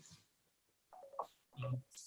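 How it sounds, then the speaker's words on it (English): A mobile phone rings faintly during an online panel discussion, giving short electronic tones that grow into a brief, louder melodic burst near the end. "someone's phone's ringing"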